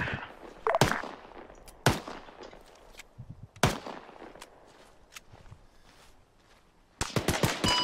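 Machine gun fire in the Arma 3 military video game: sharp, loud bursts and single cracks spaced irregularly through the clip, ending in a rapid close string of shots, with quieter background sounds between volleys.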